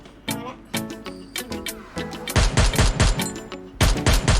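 Rapid bursts of gunfire ring out in the video game Free Fire, with sharp repeated shots and heavier close volleys toward the end, layered over game music.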